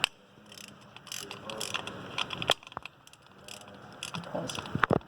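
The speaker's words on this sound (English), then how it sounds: "there's two bolts. They are both 10mm, and you're going to unscrew these" A ratchet wrench backs out 10mm bolts on the angle sensor of a Honda Recon ATV, with close, uneven clicking and scraping metal strokes interrupted by brief knocks.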